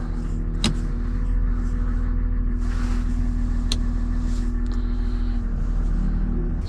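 The engine of a Cat 930 wheel loader rumbles steadily from inside the cab as it drives through town at night, a loud low drone with a few sharp clicks and clunks over it.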